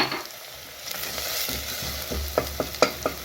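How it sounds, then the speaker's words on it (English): Garlic fries in a pan for a green banana matoke stew, a soft steady sizzle under several sharp scraping stirs from a utensil toward the end, with no talk. "So at this point, we're going to add our garlic."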